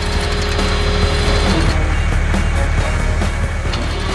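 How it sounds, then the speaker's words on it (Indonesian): An animated garbage truck gets ready to leave, with a loud, dense mechanical clatter of ratcheting and grinding parts over a low engine rumble, a tonal whine fading out midway. "truk sampah pun bersiap pergi"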